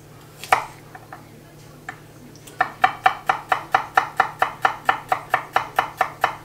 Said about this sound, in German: Den frischen Knoblauch schält ihr euch daher und schneidet ihn in Scheiben.